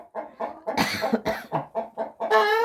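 A rooster crows loudly and close by, with a series of hoarse, clucking calls from chickens around it and no talking.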